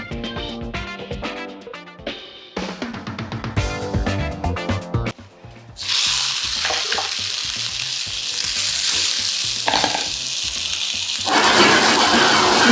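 Plant-based burger patties fry in an Ironclad cast iron pan with a loud, steady sizzle that fills the second half, after a busy opening of clattering and stirring sounds.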